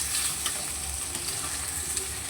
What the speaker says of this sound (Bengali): আলুটাকে একটু প্রথমে হালকা করে ভেজে নেব।